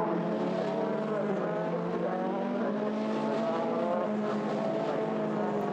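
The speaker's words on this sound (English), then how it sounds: "as they throw the cars into Stowe Corner" Formula 3 race cars in the Cooper Tires British F3 Championship cornering through Stowe Corner: a steady, loud, high-revving engine whine with layered harmonic tones that holds for several seconds, with no voices.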